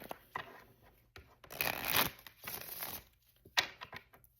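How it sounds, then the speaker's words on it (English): Crisp riffling and soft slapping of tarot cards being shuffled in several quick bursts, close up, with short pauses between. "I already started"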